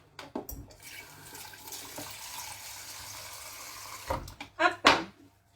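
Tap water runs briefly into a kitchen container while a home cook measures water for a shredded chicken Alfredo with broccoli recipe, a soft splashing flow with clatter and speech nearby.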